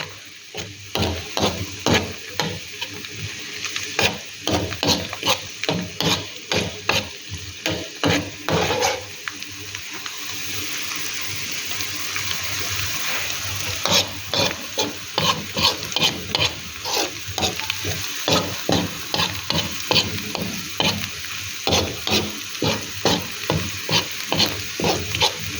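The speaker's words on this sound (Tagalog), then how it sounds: "Ginisa na gabi na may sabanak." Taro sautéed with spinach in a pan sizzles steadily while a spoon stirs in quick, rhythmic scraping strokes against the pan, close and loud. A short stretch without stirring comes mid-way before the steady scraping resumes, with no talk.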